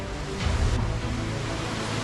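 Waterfall near Kondeshwar Temple outside Pune, a steady broadband rush of falling water, close and continuous throughout, with a brief louder surge early on and no talk over it.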